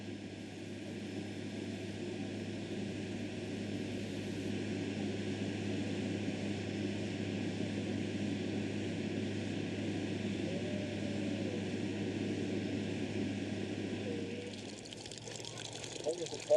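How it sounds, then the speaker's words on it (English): A Qantas Airlink propeller airplane arriving at Broome airport drones with a steady engine hum for most of the stretch, holding at an even loudness before cutting out near the end. "The Qantas Airlink flight from Sydney arrives in Broome with 8 alligators, sent by Malcolm's mate John Weigel"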